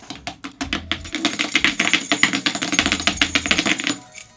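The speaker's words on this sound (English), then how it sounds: "Let's try the keys." Metal keys scraped and tapped against a phone screen, a rapid irregular series of sharp clicks and scratches, close and fairly loud, with no talk.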